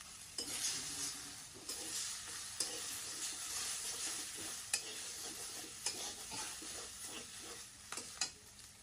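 Egg breaking into a pan of fried onion and chili, sizzling and frying steadily close up, with repeated sharp scrapes and stirring clinks of a utensil against the pan throughout, no talking.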